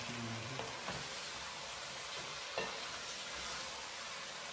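Chilies, spices, tomatoes and onions for bhuna chicken are stirred in a hot pan. A continuous, even sizzle and fry carries throughout, with soft scraping strokes of the spoon at a close, moderate level and no voices.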